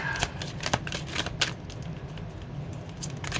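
Tarot oracle cards being shuffled by hand, a close, continuous riffling and flicking with sharp snaps at irregular moments, heard alone.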